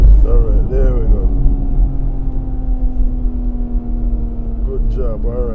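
A BMW X3M Competition engine hums and rises in a steady rev, close and loud, with people talking over it inside the car.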